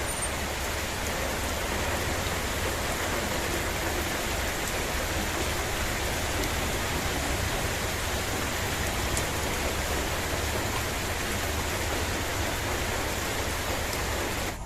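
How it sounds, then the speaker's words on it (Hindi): Heavy rain falls steadily outside an office, a dense, even hiss of downpour that holds at constant loudness from start to finish with no voices. "तो यहाँ की आप आवाज़ महसूस कीजिए इस बारिश की।"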